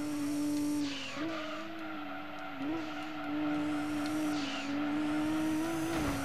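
A tuned racing car's engine revs hard and accelerates in the Gran Turismo 2 video game, a loud steady whine that rises and drops with gear shifts, with some tire noise and no talk.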